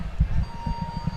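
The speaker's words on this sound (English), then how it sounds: "the referee heard the buzzer" A steady electronic buzzer tone sounds through the 1.2 seconds at a high school wrestling match, marking the end of a period over crowd noise and rumble in a gym.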